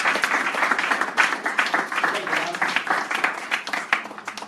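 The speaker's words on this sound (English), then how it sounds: "Give the Lord a round of applause." A crowd claps continuously in dense, crackling applause that holds steady throughout without pause.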